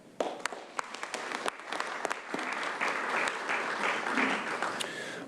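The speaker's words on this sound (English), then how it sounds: "let's give all of our coordinators one more round of applause" An audience at a county volunteer recognition ceremony gives a round of applause, starting with a few sharp nearby claps and building into steady, moderately loud clapping from the room.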